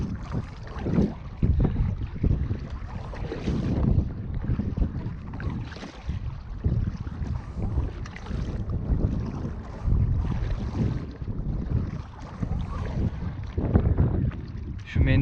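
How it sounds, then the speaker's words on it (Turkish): Wind blows across the sea around a Decathlon Itiwit 2 canoe off Küçükyalı, Istanbul, buffeting the microphone in uneven gusts with water sloshing, continuous and rough throughout. "biraz rüzgar başladı"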